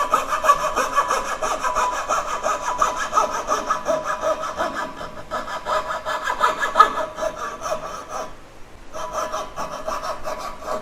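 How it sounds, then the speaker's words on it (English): A coping saw cuts through live edge wood for a console table, with steady back-and-forth rasping strokes up close that continue throughout and break off briefly near the end. "I'm trying to get somewhere to get in with my coping saw"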